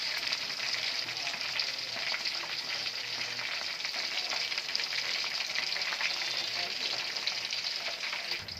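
Chicken leg pieces fry in hot oil, a steady, dense sizzle and crackle that holds at an even level throughout with no talking.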